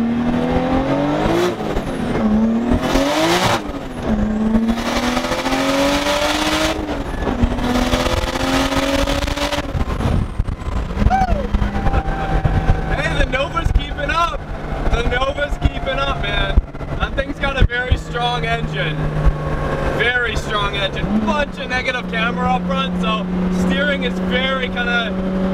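A 500 hp RB25DET-powered Nissan S13 accelerates hard down a straight, its loud engine roaring and climbing through the revs with shifts and dips, heard from inside the car, continuous and close.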